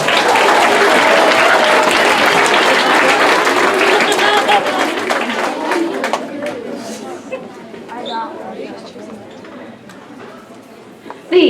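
Audience applause for nominated students at a school awards event, loud dense clapping that gradually thins and fades out toward the end.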